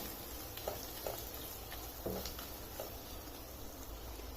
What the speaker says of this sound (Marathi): हा एक मिडियम साईजचा बारीक चिरलेला टोमॅटो हे सर्व आता व्यवस्थित परतवून घ्यायचं